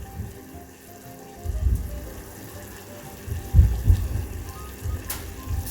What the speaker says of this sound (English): you can always dip a little egg in the oil, see if it's hot